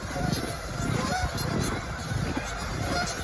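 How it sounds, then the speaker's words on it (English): Geese honk in the cold open air of an eagle-filled morning near open water, a continuous flock of overlapping calls at moderate distance over a steady background hiss. "look at all the geese"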